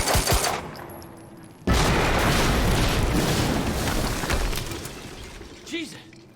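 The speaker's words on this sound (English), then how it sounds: "HQ, we just heard an explosion near the harvesting perimeter." A sudden loud blast in the video game Quantum Break bursts into a long roaring, crackling rumble that slowly fades, with game voices speaking around it.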